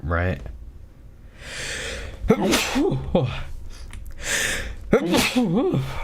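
An allergy-prone person lets out one sharp sneeze in the middle of a stretch of close-miked talk, with speech before and after it.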